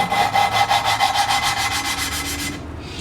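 Hand-lapping an engine valve with grinding compound in a 2005 Mazda6 cylinder head: a rapid, rhythmic back-and-forth gritty scraping, close and steady for a couple of seconds before stopping.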